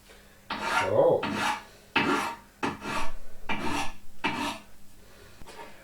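Hand file rasping a burr off a metal corner for an angle grinder support, close and loud, in seven separate strokes with short pauses between them.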